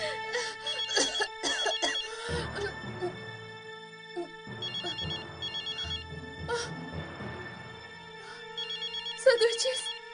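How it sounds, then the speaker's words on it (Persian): A telephone rings in repeated bursts of a bright electronic ringtone over a steady background of music, with voices talking around it. "صدای تلفن از کجا می آید؟ صدای تلفن می آید."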